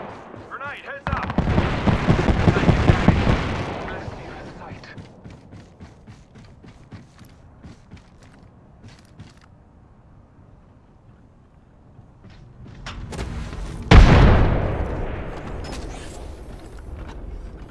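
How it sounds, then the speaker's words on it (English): Apex Legends battle: a heavy grenade blast roars for a couple of seconds, followed by scattered gunfire clatter and a second loud, sharp explosion later on. "Grenade, heads up!"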